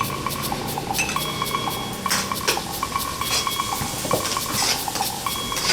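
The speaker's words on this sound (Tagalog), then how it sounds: "Sa kawali, una munang magpapainit ng mantika at margarine. Igigisa ang bawang at sibuyas." Garlic and onion sautéing in heated oil and margarine in a pan, with frequent metallic clinks and scrapes of a utensil against the pan over a soft sizzle, close and continuous.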